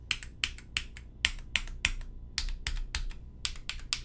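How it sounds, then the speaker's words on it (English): Typing on a brass top-mount Melody 96 mechanical keyboard, about a dozen crisp, close keystrokes struck hard in an uneven rhythm with no talking. "You want to type hard on the corner keys"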